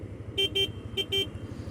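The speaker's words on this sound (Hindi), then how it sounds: "इस बाइक का हॉर्न कैसा सुनाई देता है, सो हियर गोज" Four short beeps from the horn of a Hero Xtreme 125R motorcycle, sounding in two pairs, close and clear over a low idling engine.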